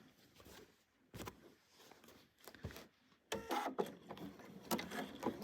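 A domestic sewing machine stitches a quilted Easter bunny wall hanging in short, quiet bursts of mechanical whirring and clatter, with pauses between runs.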